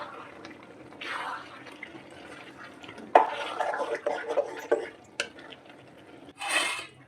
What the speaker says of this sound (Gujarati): હવે બધી આપણે વડી અંદર એડ કરી દઈશું. સારી રીતે મિક્સ કરી લેશું બધું.